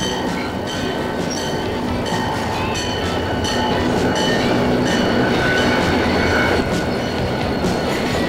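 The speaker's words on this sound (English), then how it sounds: "Freight trains are used to carry all kinds of heavy loads, and they are the workhorses of America's rails." A freight train rolls past on rails, a steady dense rumble with rhythmic wheel clatter and faint metallic squeal holding at close range for the full stretch, with no voices.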